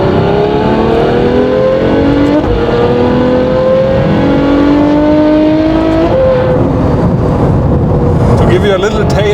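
Novitec Ferrari F12 N-Largo R supercar roaring past in loud flybys, engine note rising and falling as it sweeps by, with steady revving and gear changes throughout.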